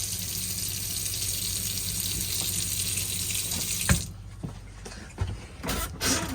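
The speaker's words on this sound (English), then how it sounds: "Again, pressurized flow of water" Pressurized water rushes steadily from a tap in a 2018 Swift Champagne 622 caravan for about four seconds, then shuts off, leaving a few soft clicks and knocks.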